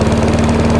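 BCM Big 20 lawn mower engine, running rough up close, with a loud steady buzzing drone and rapid pulsing firing rhythm, alone and brief.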